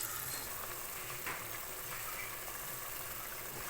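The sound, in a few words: onion, tomato, ginger-garlic, pepper and cumin sautéing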